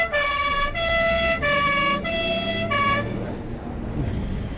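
An ambulance siren in a radio drama street scene sounds a loud, close two-tone wail in repeated rising and falling blasts, then cuts off, leaving faint background rumble.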